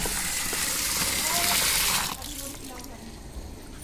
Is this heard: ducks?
no